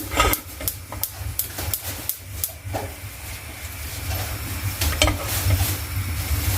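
A tablespoon of butter melting in a pot over the flame, a moderate sizzle and hiss with scattered sharp crackles and pops, some light clatter in places, no talking.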